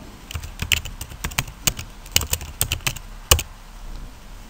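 Someone types a name on a computer keyboard in a quick, uneven burst of crisp, close key taps with short pauses between clusters, and no talking.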